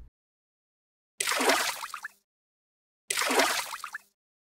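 Two short splashy water bursts, each about a second long, separated by silence, cartoon-style effects for fish swimming into a tank.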